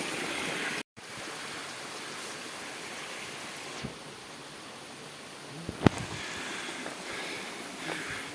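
Cold, fresh spring water flowing out of the ground in a forest area makes a steady, faint broadband rush and trickle, with a brief dropout and a few small knocks.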